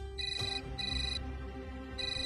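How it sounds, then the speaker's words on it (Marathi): A telephone ringtone plays in a home in electronic bursts, a short ring, a pause, then a longer stretch of repeated tone. It is clear and fairly close, with no talking over it. "अहो फोन उचला ना"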